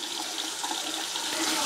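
Hot water runs steadily from a bathroom faucet in a five-star hotel room in Cuba, a continuous close hiss and splash with no talking over it.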